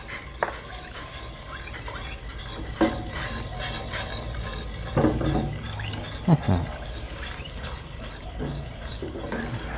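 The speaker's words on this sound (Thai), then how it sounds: "ค่อยๆคนไปก่อนค่ะ" A spoon stirs teriyaki sauce with soy sauce in a pan, meant for stuffed okra, giving repeated scraping and light metallic clinks over a low simmer, with a voice speaking at times.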